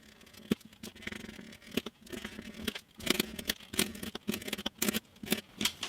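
Knife blade cutting and splitting the wooden body of a handmade classical-style guitar, a run of close, irregular scraping and snapping cuts that grow denser and sharper toward the end, with no voices.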